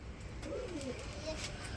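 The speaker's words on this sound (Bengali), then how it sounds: "এই যে দেখেন সিলভার কালারের মধ্যে লাহোরি কবুতরের জোড়া" Lahori pigeons give a short, soft cooing call, faint against a busy background hum.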